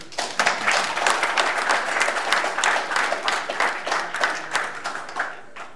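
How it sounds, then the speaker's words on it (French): A conference audience at Pivotal Paris 2019 claps after a live demo, with rhythmic, moderately loud applause that has distinct pulses of clapping. "On peut applaudir."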